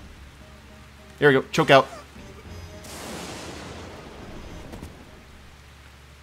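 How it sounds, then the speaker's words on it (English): Steady rain falls across a city street in Vienna in the stealth video game Calvino Noir, a soft continuous patter after a brief burst of game sounds, with someone speaking faintly over it. "Enjoy some of this nice Vienna rain."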